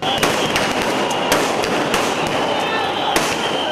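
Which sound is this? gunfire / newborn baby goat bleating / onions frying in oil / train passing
gunfire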